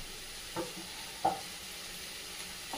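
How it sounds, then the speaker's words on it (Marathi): Chopped fenugreek leaves sautéing in a pan for fenugreek theple, giving a faint steady sizzle with a few soft spatula scrapes and taps spaced through it, no talking. "मेथी फक्त परतून घ्यायची आपल्याला"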